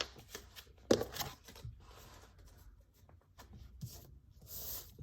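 Playing cards are shuffled during a card reading, quiet riffles and rubbing slides near the mic with one sharper flick, in short intermittent bursts.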